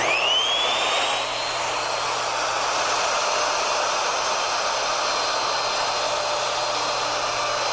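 A handheld plunge router cuts a mortise in wood, starting with a rising whine as the motor spins up, then settling into a steady, loud high-pitched scream with no talking.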